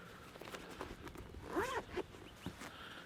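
A zipper on a drone accessory bag pocket pulled in a quick rasping run, close up, amid soft rustling and handling of fabric, with no talk.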